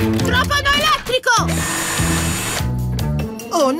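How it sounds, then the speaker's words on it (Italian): A cartoon electric drill whirs as a building crew works at sunset, heard in short buzzing bursts over a music score, with animated character voices talking alongside. "Non vedo cosa sto trapanando."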